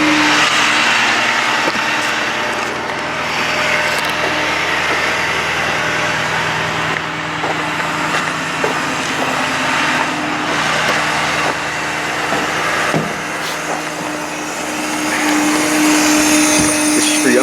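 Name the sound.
2009 Ford F-550 bucket truck engine running with PTO engaged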